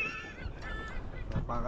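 A bird gives several honking, goose-like calls beside the Kurau river in Perak, moderately close over faint background noise, with no talking.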